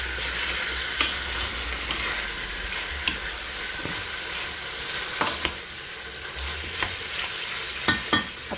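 Chicken apritada is stirred in a pan, a steady hissing simmer with scattered spoon knocks and scrapes at uneven intervals, close and moderately loud, with no one talking.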